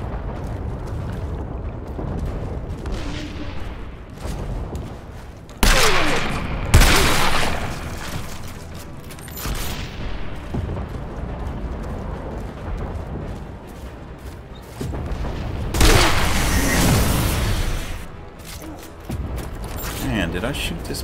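Gunfire and heavy impact bursts from the shooter game Outriders, with two loud broadband blasts standing out above a continuous bed of game sound and scattered mechanical clatter.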